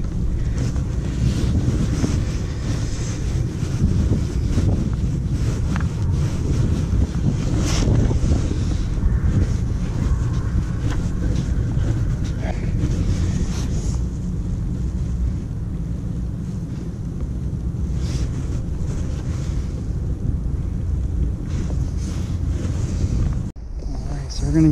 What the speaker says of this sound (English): Oh, a little windy today.